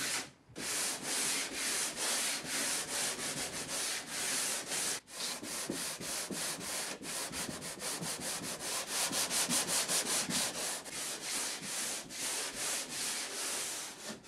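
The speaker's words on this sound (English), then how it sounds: "you're going to have to sand this down to scuff this up a little bit" Mobile home wall paneling is scuffed with sandpaper in a steady run of quick back-and-forth strokes, close and loud, continuing for many seconds with one brief break and no voices.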